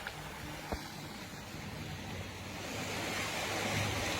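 Sea waves washing onto a clean village beach, a continuous broad surf wash with wind rumble that grows slightly louder toward the end, with a brief knock near the start.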